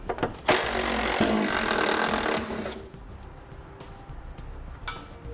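Power tool driving a 15mm socket to remove bolts from a fascia support bar on a 2007 Buick Terraza, a loud buzzing whir lasting about two seconds before cutting out to quieter background rattles.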